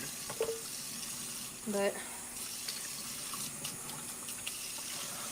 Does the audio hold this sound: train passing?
no